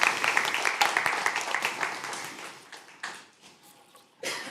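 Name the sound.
audience applause after a presentation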